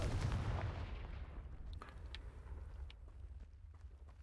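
A Confringo spell blasts in the video game Hogwarts Legacy: one loud, deep explosive boom that decays over a couple of seconds into a rumbling tail, with faint crackles.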